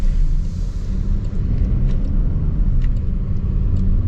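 Steady low engine rumble from a Jaguar F-Pace P400's smooth inline-six, heard from inside the car while driving: a continuous, even drone with faint road noise and no talking.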